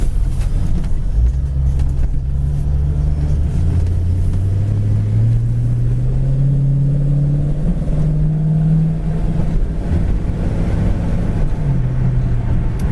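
A 1966 Ford Mustang GT V8 with a four-barrel carburetor driving down the road, a steady low engine drone rising in pitch as it accelerates through gears, loud and continuous from inside the car.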